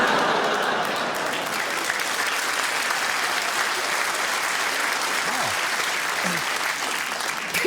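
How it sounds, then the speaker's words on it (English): Sustained audience applause at a comedy show after an edgy joke, a dense steady wash of clapping from a large crowd lasting the whole stretch, with faint voices mixed in. "A round of applause for a Fritzl joke."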